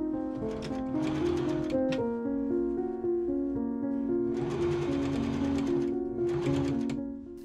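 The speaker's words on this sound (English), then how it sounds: "I machine sew the binding 1/4 inch from the edge" A sewing machine stitches bias binding onto the hem of a silk Victorian ballgown skirt in rapid mechanical bursts, with short pauses between runs, while steady tonal music plays underneath.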